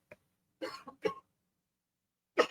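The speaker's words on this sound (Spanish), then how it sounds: "Ay, tengo tosecita." A woman coughs during a lecture on liturgical Latin: a short burst, then several quick dry coughs in a cluster, and one more cough after a pause, close and otherwise in silence.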